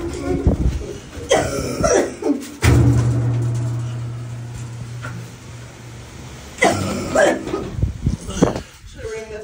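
A person coughs in short bursts at the start and again near the end, with a longer stretch of speech in between and a faint cooing bird in the background outdoors.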